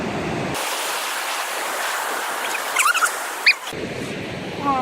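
Ocean waves wash onto a beach, a steady loud surf roar that cuts out briefly and returns, with a couple of short knocks mixed in.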